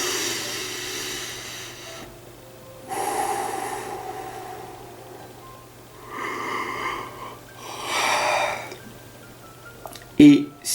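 Slow, deep conscious breaths during a guided meditation, several long audible inhales and exhales with quiet pauses between them, close and soft, ending in a short sharp sound.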